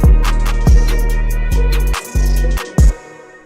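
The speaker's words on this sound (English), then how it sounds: "So I added a hat almost every time the kick and the 808 played." A trap beat loops with booming 808 bass notes and punchy kicks, crisp hi-hats landing alongside nearly every hit, loud and dry with no voices.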